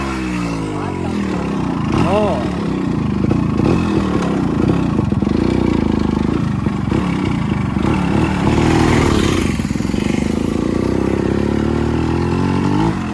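A Yamaha RX135 two-stroke motorcycle runs loud and steady while being ridden, its engine drone rising and falling continuously close by, with voices talking over it at times.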